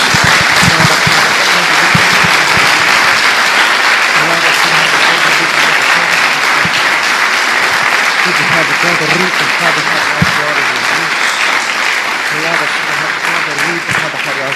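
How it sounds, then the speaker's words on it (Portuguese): Loud, dense applause from a church congregation during a Bible study service, many hands clapping continuously and close, with some voices underneath. "Dê uma salva de palmas a Jesus."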